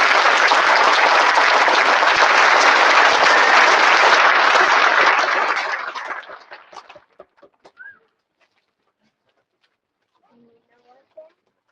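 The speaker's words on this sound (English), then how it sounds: "One more round of applause for our Eastern." Loud, dense applause from a graduation crowd at Newcastle High School fills the first six seconds, then fades into a few scattered claps and brief faint sounds before near silence.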